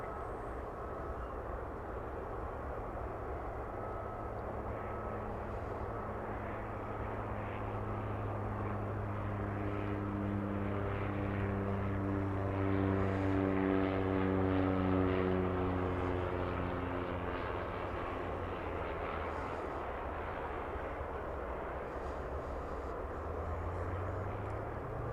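An airplane approaching to land at DFW Airport on the diagonal runway, its steady engine roar growing louder and then easing, with a slow pitch sweep as it passes at a distance.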